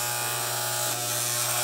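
Electric hair clippers fitted with a three guard cut through thick hair with a steady, close, loud buzzing hum that holds continuously throughout.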